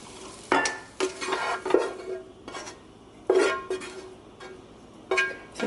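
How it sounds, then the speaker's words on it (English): Metal utensil scrapes and clanks against a skillet as cooked Cajun chicken and shrimp are lifted out, several separate bursts of scraping and clatter with a faint sizzle between them, close and fairly loud, no talking. "So just remove everything out of the skillet."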